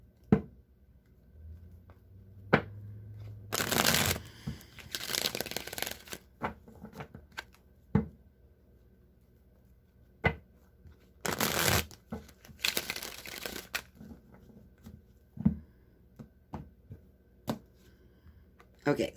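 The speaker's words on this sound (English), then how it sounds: "I'm going to go ahead and shuffle the tarot now" A deck of tarot cards is shuffled in several loud riffling bursts, separated by softer taps and card handling, close up and with no talk.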